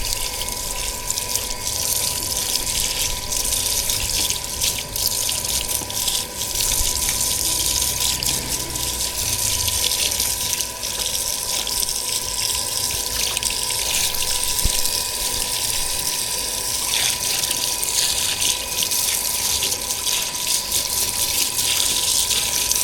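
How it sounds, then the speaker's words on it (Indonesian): Strong running water gushes steadily as a baby civet is rinsed, a loud continuous splashing rush with no pauses. "ini saya bilas pakai air aja karena air saya juga deras kan"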